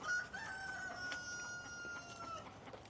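A rooster crows outdoors, a single drawn-out call at moderate distance, fairly faint against background noise, with no talking over it.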